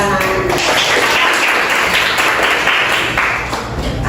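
A classroom of students clapping together on cue, loud and close. Sharp, rapid hand claps merge into a continuous burst that holds steady before easing slightly at the end.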